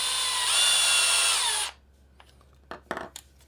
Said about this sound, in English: Oh, that drill is noisy.